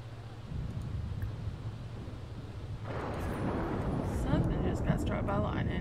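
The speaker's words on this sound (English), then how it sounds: "Something just got struck by lightning." Lightning strike and rolling thunder in The Sims, a low continuous rumble that swells louder partway through and continues to the end, with game sounds alongside.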